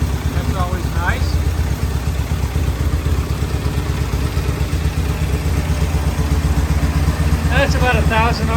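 An old British motorcycle engine ticks over at about 1,000 RPM with a steady, near, throbbing beat and mechanical clatter, while someone speaks briefly over it at the start and end.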